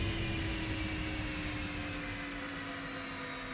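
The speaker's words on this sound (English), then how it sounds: "Wow, that actually sounds like somebody shut the engine off." An aircraft engine in the X-Plane flight simulator, descending, gives off a continuous, steady drone with a fixed tonal hum, low in level and without interruption.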